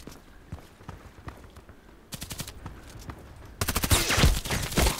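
Glock 18 automatic pistol fire in the video game Contract Wars: scattered single cracks and footsteps at first, then bursts of rapid fire that grow louder and denser toward the end.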